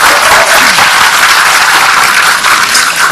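Loud, sustained audience applause fills the whole stretch, a dense wash of many hands clapping with no voices rising above it.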